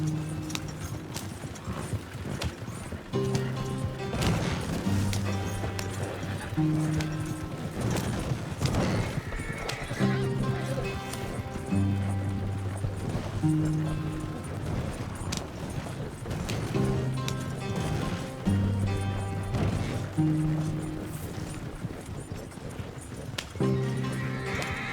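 A horse in the Red Dead Redemption 2 video game gallops with steady clip-clop hoofbeats and lets out whinnies, all over continuous game music that runs through the whole stretch.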